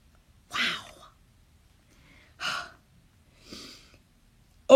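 A person makes snoring noises with the mouth, imitating a sleeping wolf: three slow, breathy snorts about two seconds apart, near and fairly soft, with a louder burst at the very end.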